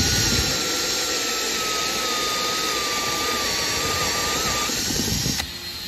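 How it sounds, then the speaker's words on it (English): A power drill bores holes in a Toyota 4Runner bumper, a steady loud whine with a faint pitched tone that holds for about five seconds before stopping abruptly, with no speech. "Corner holes drilled out. Get ready to do some other holes."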